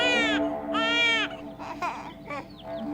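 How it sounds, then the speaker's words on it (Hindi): A baby cries in loud wailing bursts close by, with a few shorter sobbing cries after, indoors in a Hindi TV serial scene. "बच्चा रो रहा है यहाँ पे।"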